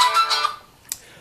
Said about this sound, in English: it's a real good option that you can choose different ringtones